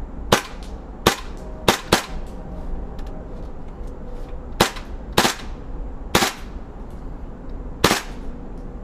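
A KWA KRISS Vector airsoft gun fitted with a Mark 23 SOCOM suppressor fires single rounds outdoors: about nine sharp, loud cracks at irregular intervals, some in quick pairs, over a steady background hiss with no talking.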